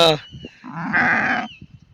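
Sheep in a flock bleating, with one long wavering bleat standing out near the middle and softer animal calls and shuffling around it, fairly close.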